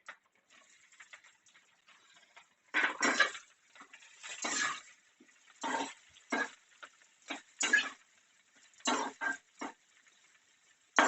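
Chopped onions tipped into a pan for street-style veg chowmein, followed by a run of clinking, scraping stir bursts of utensil against metal, irregular and close, with quiet gaps between them and no talking.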